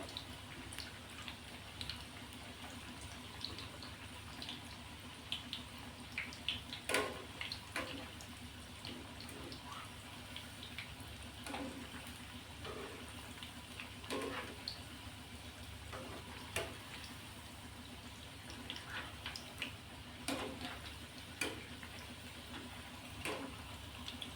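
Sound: potato spinach bhaji deep frying in oil

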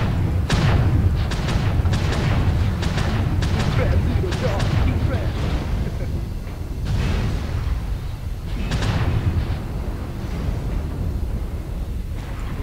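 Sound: weapon fire hitting player's mech in video game MechWarrior Online

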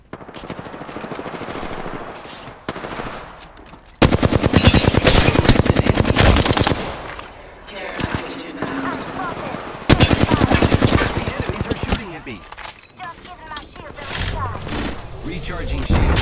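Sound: gunfire in a video game

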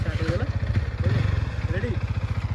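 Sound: Yamaha R15 motorcycle engine starting and idling

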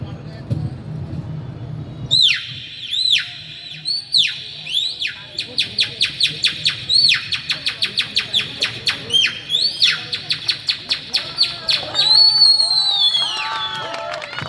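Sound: human imitating oriental magpie-robin call

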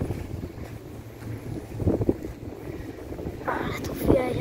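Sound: wind blowing outdoors near wind turbines

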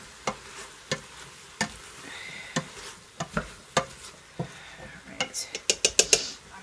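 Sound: stirring potatoes in beef and barley soup pot

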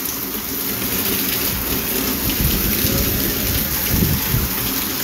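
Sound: heavy rain falling outdoors with thunder

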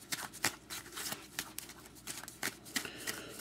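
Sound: shuffling a deck of hockey team cards

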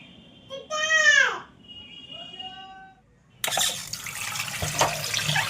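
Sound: water running from tap while washing rohu fish

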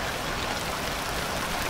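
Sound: light drizzling rain in video game Stranded Deep

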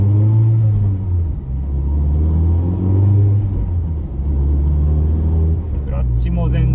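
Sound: sports car engine with aftermarket muffler

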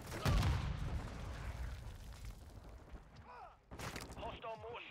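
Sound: mortar strike explosions in a video game

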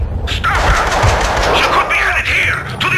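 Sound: gunshots in Max Payne 2 video game

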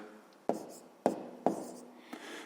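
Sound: writing an answer by hand during math lesson

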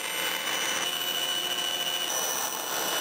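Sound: bandsaw cutting wood guitar sides

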